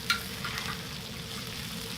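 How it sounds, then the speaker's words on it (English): Ribeye steak sizzling on a plow disc discada beside hash browns, a soft, even frying hiss throughout with a faint click near the start. "I'm going to flip this one over so we can cook a little bit more."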